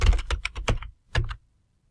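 A quick run of plastic clicks from a computer keyboard, then a short pause and one final firmer keystroke like the enter key, close and crisp before silence.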